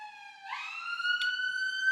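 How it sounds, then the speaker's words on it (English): An ambulance siren passing along a town-centre street, its steady wail rising in pitch partway through as it draws nearer, loud and clear with no talk over it. "That's an ambulance."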